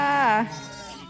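A sheep bleats once, loud and close, in a wavering cry lasting under half a second while the flock is herded during a move of ewes and lambs amid flooding, followed by quieter background sound.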